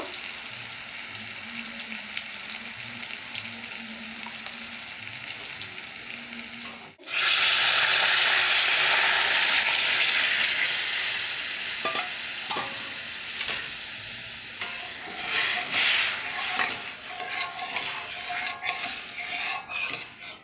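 Nigella seeds drop into hot oil for a mango dal tadka, setting off a sudden loud sizzle that gradually eases into steady frying. A low crackle comes before it, and faint clinks of a utensil follow later.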